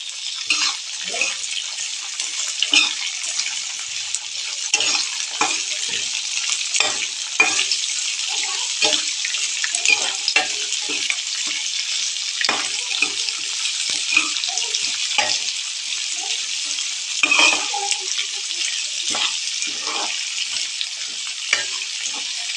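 Green chillies fry in a hot pan with a steady, close sizzle, broken by scattered clinks and stirring scrapes of a utensil against the pan, with no talking.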